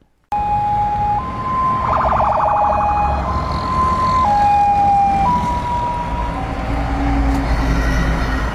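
A loud police siren wails in stepped, alternating tones as officers escort a white lorry through Kenya, with a rumbling vehicle underneath and no talk.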